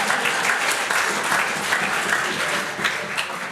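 Church congregation applauding during a sermon, a full, steady burst of clapping from many people that holds throughout and tapers slightly at the end.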